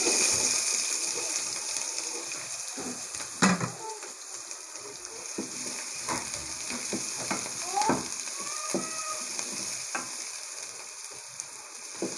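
Onions sizzle and crackle steadily in hot oil for an okra (bindi) dish, a continuous frying hiss with occasional sharper pops and stirring scrapes, close and fairly loud throughout.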